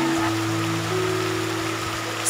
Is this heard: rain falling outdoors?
yes